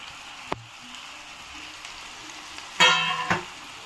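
Chopped cucumber tipped into a hot masala for a mutton curry, a soft steady sizzle with a sharp clatter early on and a louder splash of frying near the end.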